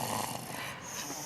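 Small child snoring while asleep in a sled outdoors, a close, rough, raspy breathing rumble heard for a brief moment with no talk.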